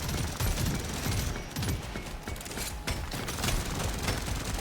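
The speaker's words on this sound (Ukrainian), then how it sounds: "чим прикольна ця граната, що вона, ну, коли вибухає, стріляє по полу." Dense, continuous rapid-fire blasts and crackling gunfire from exploding grenades in the video game Deep Rock Galactic Survivor, loud and unbroken throughout.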